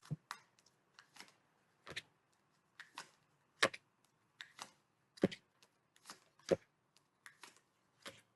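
Quiet sharp riffling bursts of cards being shuffled, repeated in quick irregular clusters with short silences between.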